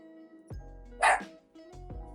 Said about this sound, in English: I know you can hear the dog